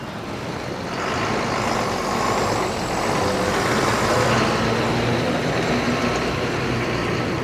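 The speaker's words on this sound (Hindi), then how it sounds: "थोड़ा सा ट्रैफिक वाला एरिया है ये और ट्रैफिक चलता रहता है" Busy roadside traffic with trucks passing makes a continuous loud rumble and engine drone that swells as vehicles go by, with no voices.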